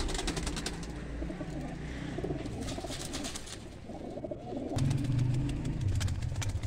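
Golden breeder male pigeons cooing in soft repeated throaty calls, close by and growing fuller toward the end, with some background rustling and faint chirps.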